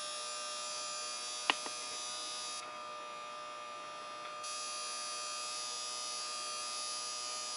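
A small electric motor powered by a bifilar double-loaded coil whines steadily with a high, even hum, interrupted by a brief click and a short drop in tone midway; no speech.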